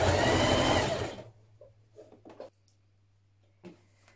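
A sewing machine runs in a loud, steady whir for about a second, stitching the pocket edges of a Vogue 1777 pullover dress with overlock or zigzag stitch, then stops, leaving faint handling clicks and a low hum.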